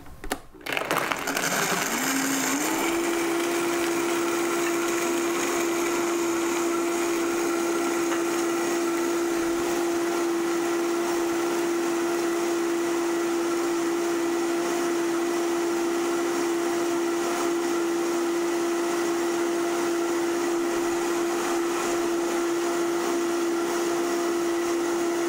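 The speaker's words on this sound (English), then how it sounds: "I use my trusted Vitamixer." A Vitamix blender runs at high speed blending a green drink, with a brief rough start that settles into a loud, steady whine held without pause for the full stretch.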